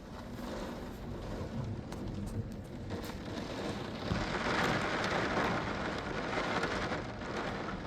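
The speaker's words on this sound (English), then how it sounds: "This is a neat storm though." A steady rainstorm drives against a house window, a dense continuous hiss and patter of drops that swells somewhat midway, heard up close with no voices.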